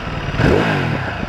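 A Ducati Multistrada 1260 S motorcycle exhaust rumbles loud and close just after starting, a brief rising rev swelling then settling into a steady throb.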